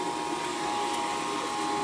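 A vacuum pump drones steadily as it evacuates the refrigerant lines of a newly installed gas furnace and AC system, a close, loud motor whine with a constant hum and no talking.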